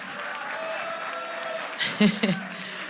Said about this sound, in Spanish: después de este aplauso gigante para ella, que ya dieron, te escuchamos